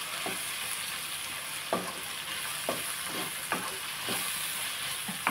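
Tomato, ivy gourd and green chillies frying in a pan for a roti chutney, a continuous close sizzle broken by about eight short scraping stirs at irregular intervals.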